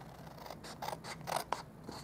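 Scissors cutting up the score lines on cardstock for a reindeer baker's box; a few quiet, close snips and slicing scrapes over about two seconds.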